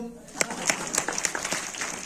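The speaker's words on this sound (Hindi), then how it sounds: "ताली बजाओ" Scattered hand claps from an audience at a Padamjeet Sehrawat event at Bharat Mandapam, a handful of sharp, uneven claps over a couple of seconds, fairly faint against room noise.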